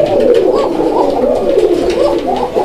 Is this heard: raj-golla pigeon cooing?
yes